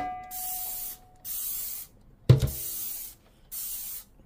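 Dawn Ultra Platinum Powerwash dish spray pumped onto a pasta strainer, four short, close hissing squirts with gaps between them and a single clatter midway.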